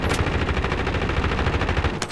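Gunfire aimed at a helicopter in the Warzone video game, a loud, rapid automatic burst of closely spaced shots that runs nonstop for about two seconds.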